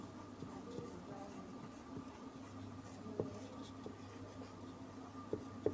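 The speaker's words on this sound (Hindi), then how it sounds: "यहाँ पे लिखेंगे हल, फिर लिखेंगे यूक्लिड विभाजन" Faint scratching of chalk or marker on a board during a Class 10 math lesson on Euclid's division lemma, soft strokes with a few sharper taps over a low background hum.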